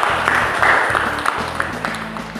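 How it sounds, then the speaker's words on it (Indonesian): A room of students applauds for the third presenting group at a university classroom session, steady clapping filling the short stretch with a faint tonal hum underneath. "Kita beri aplaus untuk kelompok yang ketiga"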